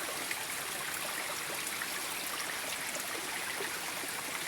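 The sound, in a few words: flowing creek water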